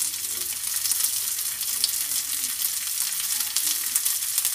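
Small aloo tikki sizzling in ghee on a hot pan over a high flame, a steady, loud crackling hiss of frying that continues evenly throughout with no voices.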